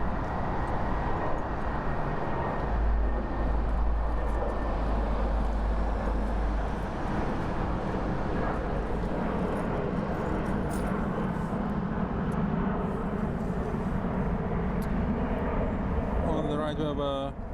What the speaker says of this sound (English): CRJ 900 LR headed to Basel